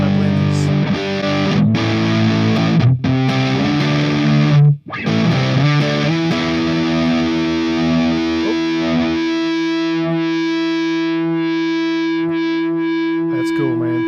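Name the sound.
electric guitar amp feedback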